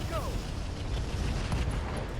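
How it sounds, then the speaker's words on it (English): An MRM ammo explosion in RogueTech, the BattleTech mod, comes as a dense roar of rumbling blasts and crackling debris under a faint rising whistle, steady and loud throughout, with no clear separate impacts. "Ooh, MRM ammo explosion"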